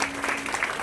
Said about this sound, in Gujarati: આપણી વચ્ચે જેપી સર ઉપસ્થિત છે, તો એમની જોરદાર તાળીઓથી સ્વાગત કરીએ